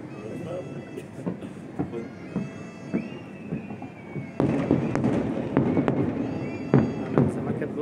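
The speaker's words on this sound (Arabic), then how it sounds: "بصرفوا العاب نارية" New Year fireworks rockets bursting at a distance in irregular pops and crackles, growing denser and louder partway through, with people talking over them.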